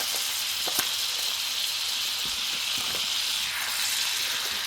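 Butter sizzles and hisses as it melts in a hot pan for a lobster dish. The frying noise is continuous and close, with a few soft clicks and taps over it and nobody talking.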